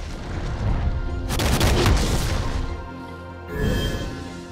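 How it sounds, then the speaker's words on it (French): Gangplank's pirate ship in League of Legends fires a cannonball barrage: heavy booming blasts and crashing impacts rumble loudly, ease off, then another volley lands near the end. "Gangplank demande à son navire de tirer des salves de boulets de canon à portée globale dans une large zone"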